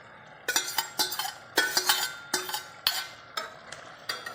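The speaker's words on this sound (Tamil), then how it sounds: "இப்போ வந்து நாம் எடுத்து வச்சுருக்கிற 500 கிராம் சிக்கனை ஆட் பண்ணுறோம்" Marinated chicken in hot oil in a pan, stirred with a utensil that gives repeated sharp scrapes and clanks against the metal over a faint sizzle, close and evenly spaced.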